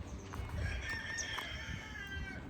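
A rooster crows in a backyard among poultry, a drawn-out call held over steady outdoor background noise, with no talking.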